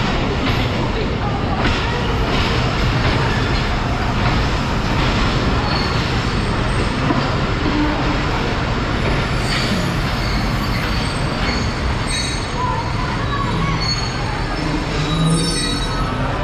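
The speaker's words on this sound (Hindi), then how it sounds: "9:50 पर अब सियालकोट जंक्शन रेलवे स्टेशन पर पहुंच रही है" Sialkot Express train arriving at Sialkot Junction railway station: a loud, continuous rumble of rolling wagons with rattling, scattered metallic clatter and squeals, heard from on board and close up throughout.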